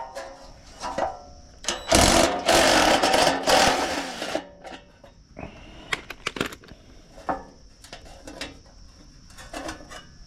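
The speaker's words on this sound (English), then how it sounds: "using my DEWALT impact" A DEWALT impact wrench removes trailer fender bolts, heard as a loud close burst of rapid hammering rattle for about two seconds, then shorter clanks and scattered metallic knocks and clicks.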